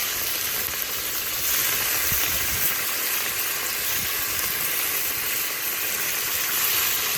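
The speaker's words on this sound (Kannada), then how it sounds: "ಎಣ್ಣೆ ಕಾದಿದೆ, ಚಿಕನ್ ಹಾಕ್ತಾ ಇದ್ದೀವಿ" Chicken pieces for chicken Manchurian frying in hot oil, a loud, steady, crackling sizzle with a few soft clicks as the pieces go in, continuous and close without talk.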